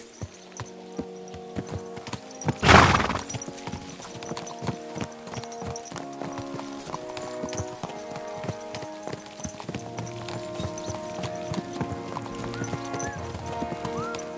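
Horses in Kingdom Come: Deliverance II walk along under riders, giving a steady clip-clop of hooves close by, with one whinny early on and quiet voices now and then.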